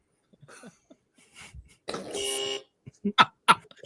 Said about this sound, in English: She hears the buzzer and she thinks it's going off in her bedroom.